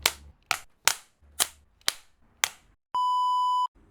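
A film slate clapperboard snaps shut on a Malaysian film set, a run of six sharp, close wooden claps in steady rhythm, followed by a long, steady electronic beep.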